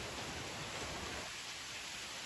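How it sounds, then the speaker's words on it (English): Rain falling outdoors in rural France, a faint, even hiss of drops with no voices. "We have rain."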